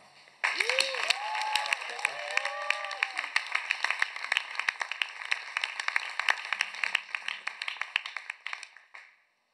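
An audience applauds, the clapping swelling suddenly and holding steady for several seconds before fading. A sung or spoken voice briefly rises over its start.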